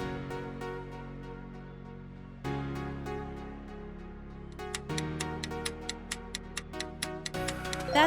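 An alarm clock in a desert scene with cacti ticks steadily at a regular pace, with the background music shifting in sections and the ticks getting sharper and more prominent toward the end.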